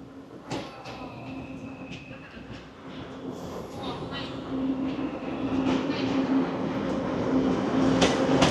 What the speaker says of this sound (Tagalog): And dito yung may train.